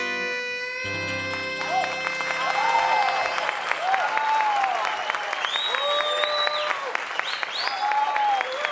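Studio audience applauding a folk music group after a performance of a Christmas carol on an Aragonese TV show; steady, dense clapping close up throughout, with a few cheers rising above it.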